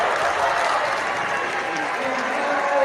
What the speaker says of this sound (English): Big reaction for the crowd.